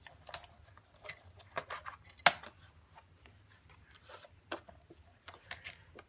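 Scissors snip through folded greeting cards along the center, a string of faint, close crisp cuts and paper rustles with one sharper snip, with no talking.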